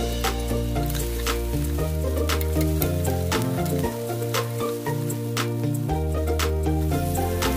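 Chopped onion hits hot oil for a simple adobo and sizzles loudly and continuously, with a dense crackling hiss that holds steady throughout.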